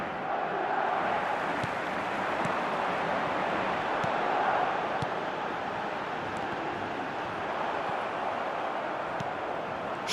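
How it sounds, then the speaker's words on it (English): A stadium crowd in the eFootball video game roars after a goal, a dense, sustained wall of cheering that swells slightly midway and stays loud to the end. "the crowd level has gone up a notch or 10"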